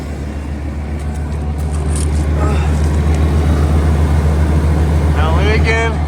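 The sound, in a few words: EFI Ford F150 engine running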